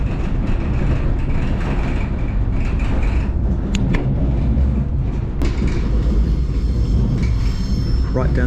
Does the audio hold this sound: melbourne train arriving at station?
yes